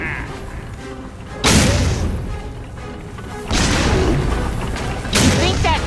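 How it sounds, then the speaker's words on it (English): Three heavy booming cannon blasts go off a couple of seconds apart in Epic Mickey 2: The Power of Two, each loud and broad with a rumbling tail, amid clattering game effects. "Fire the cannons, ye bloomin' cockroaches!"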